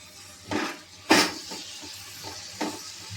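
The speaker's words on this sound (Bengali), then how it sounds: "সামান্য একটু জল দিয়ে মশলাটা কষে নেব" Spice paste for a catfish curry with cauliflower frying in a pan with a splash of water, low frying hiss broken by a few scraping stirs, one sharp louder hit among them, no voices.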